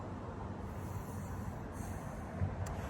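A train pulls out of a station in Northern Ireland, a low, steady rumble of moving carriages heard from a distance, faint and even, with a brief hiss near the end.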